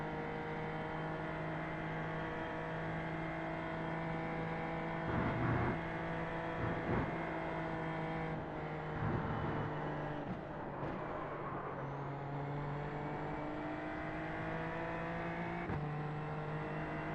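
A steady video game race car engine drone hums throughout at fairly constant pitch, with a few brief shifts and rises in revs, quiet and continuous.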